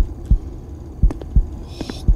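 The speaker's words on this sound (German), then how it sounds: "Herzschlag." Game heartbeat sound effect from a horror adventure, four deep low thumps spaced about a second apart and coming in pairs, with faint hum and a brief airy hiss in the background.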